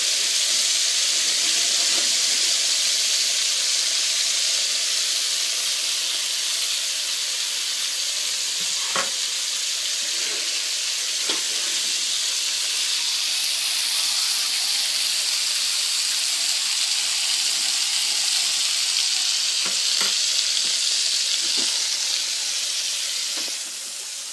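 Pork chops fry in a pan, a steady loud sizzle with steam hiss lasting throughout, broken by a few soft clinks and stirring sounds.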